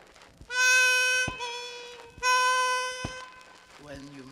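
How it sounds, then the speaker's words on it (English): Chromatic harmonica bending the draw 4 note: two long, reedy, bleating tones that sag in pitch, each swelling and then fading, with a brief lower sound at the end. "When learning to bend draw 4,"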